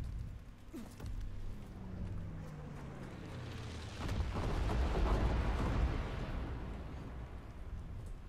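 Incendiary bombing run in Modern Warfare 3 sets off deep, rumbling explosions and bursts. The blasts swell in a dense roar midway and then fade into a lingering fiery rumble.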